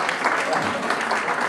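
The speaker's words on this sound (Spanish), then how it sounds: "aplausos por favor" Crowd at a live rock concert in Sónica Freedom Bar applauds a band member's introduction, a brief, steady wash of clapping that fills the room evenly.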